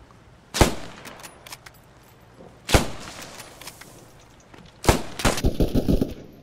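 Machine gun fire in the video game Post Scriptum: three loud, sharp shots spaced about two seconds apart, then a fast rattling burst of rapid fire near the end, with no talking.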